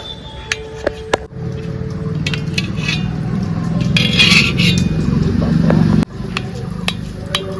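A knife slicing paneer into cubes on a board, with sharp tapping knocks of the blade and light clatter of dishes, close and distinct over a steady background hum.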